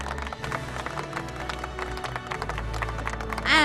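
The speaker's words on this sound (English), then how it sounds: "Can we have a round of applause," Audience applause fills a hall at an industry awards ceremony for cold chain technology, a steady wash of many hands clapping at moderate distance, with a brief louder swell near the end.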